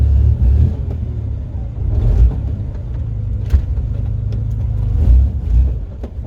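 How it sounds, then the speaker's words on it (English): A Nissan Z31 fitted with a 350Z differential on a test drive gives a deep, steady engine rumble from inside the car, swelling slightly as it accelerates, with some thumps from the road. "It's time to take it for a test drive."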